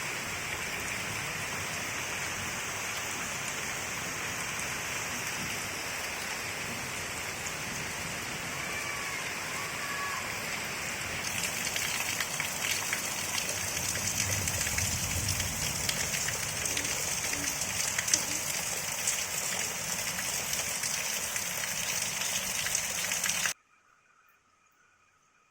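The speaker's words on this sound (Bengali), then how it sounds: "এই যে দেখতেই পাচ্ছেন বাইরে কি পরিমাণ বৃষ্টি হচ্ছে" Heavy rain pours down outdoors in a steady, dense hiss that holds for over twenty seconds, swelling a little louder midway before cutting off abruptly near the end.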